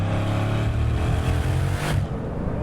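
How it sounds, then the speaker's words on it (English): A Bugatti Chiron Super Sport's quad-turbo W16 engine accelerates hard on a German autobahn, a loud, steady, deep roar that swells and builds without pause, with no voices over it. "Wait for a second for the boost to build, but then it comes on, and it comes on strong."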